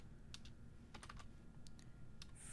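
Computer keyboard typing comes through as a few quick bursts of light clicks over a steady low hum, close but quiet, with no voice.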